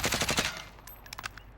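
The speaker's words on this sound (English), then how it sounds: "Alright, so I'm going to show you the recoil spread for the Grau." A Grau assault rifle fires in a video game, sounding as a quick rapid burst of about six close, sharp shots followed by fainter clicking and rattling.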